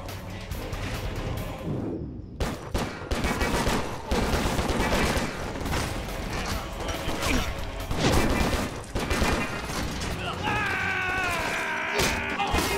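Gunfire in the video game John Woo Stranglehold, with repeated bursts of shots, impacts and crashes piling up loud and continuous, and a brief gap early on before the chaos resumes.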